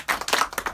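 A short burst of hand clapping rises from the audience at a magic show, a few quick claps lasting under a second.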